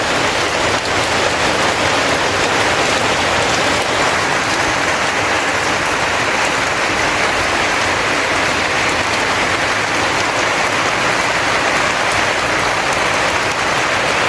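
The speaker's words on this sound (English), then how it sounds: "Ah well, rained off." Heavy rain pours steadily onto a surface during roofing work on a house extension, a dense, loud, unbroken hiss with no pauses for the full length.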